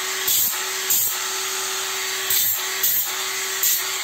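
A Parkside PAAP 12 B2 cordless grinder runs with a steady high whine while grinding slag off a cut sheet-metal edge, with several short bursts of rasping contact as the disc touches the metal.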